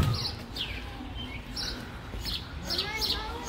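Budgies at a zoo aviary chirping in quick, bright tweets scattered throughout, layered over a busy background murmur with voices nearby.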